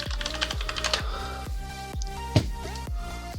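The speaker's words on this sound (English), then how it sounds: "So what I'm gonna do is type in Minecraft wallpaper." Keys clack in a quick, irregular burst on a computer keyboard as a search is typed, close and crisp, with short pauses between groups of strokes and no talking.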